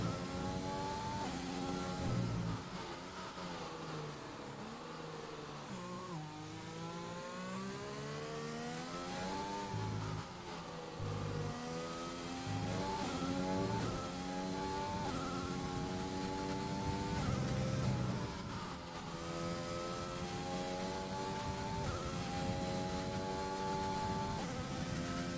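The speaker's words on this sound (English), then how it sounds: "As we ride on board with him now, let's just let his car do the talking." Onboard Formula 2 race car engine from the F1 2020 video game at the Belgian GP, a continuous high-pitched whining roar rising and falling through repeated gear shifts and accelerations, loud and alone without talk.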